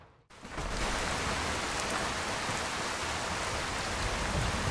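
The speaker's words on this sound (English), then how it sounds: "And it's still a downpour." Heavy rain in Skyrim pours steadily, a dense, loud hiss of drops that begins abruptly and continues without pause.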